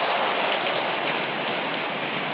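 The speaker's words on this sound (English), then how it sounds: "Rain begins to fall and steadily increases." Rain falling as a tropical storm approaches at sea, a steady, dense hiss of drops without pause, loud and even, with a band-limited old-film sound and no voices.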